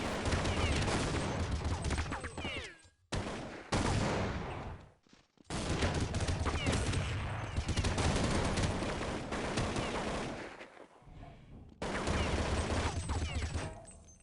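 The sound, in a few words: gunfire in Counter-Strike video game match, NiP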